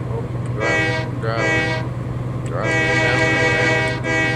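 Train horn blasts in the video game Train Life, two short harmonic toots then a long sustained blare over a steady low rumble of the locomotive running down the railroad, loud and close.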